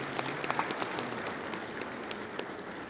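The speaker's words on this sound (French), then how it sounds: "Je souhaite que les applaudissements continuent." Audience applause at the closing ceremony of the FANAF 2025 assembly in Marrakech, Morocco, a steady, moderately faint wash of clapping from a hall crowd with scattered sharper claps, continuing throughout without speech.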